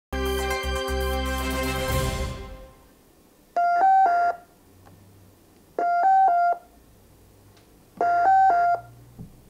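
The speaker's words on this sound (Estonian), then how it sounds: "Nii kõlab maailmas parimaks valitud häirenupu signaal" An emergency alarm button gives off a signal: a bright sustained chord fades out, then three short identical electronic tone bursts repeat at steady two-second intervals, loud and clean.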